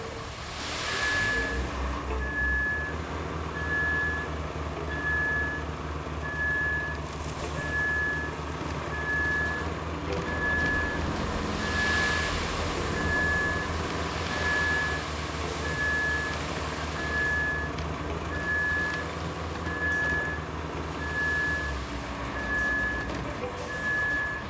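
A dump truck in the video game Roadcraft idles with a low engine drone while its reversing alarm beeps steadily and evenly throughout.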